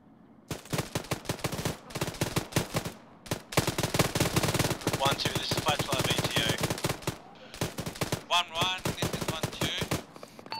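Dense automatic gunfire in the military shooter Arma 3, loud continuous bursts of rapid shots with brief gaps, close and dominating, some overlapping distant reports.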